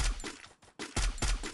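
Gunfire in the mobile battle royale game Free Fire comes as loud, rapid automatic bursts, with a brief pause midway before the shooting resumes.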